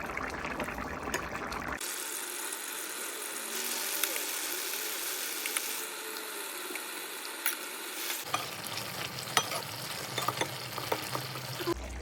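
Vegetable gravy simmering and reducing in a pan for a home-cooked veg thali, with soft continuous bubbling and sizzling close by that shifts in texture partway through, plus faint clinks.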